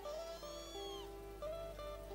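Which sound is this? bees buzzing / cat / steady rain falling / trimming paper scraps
cat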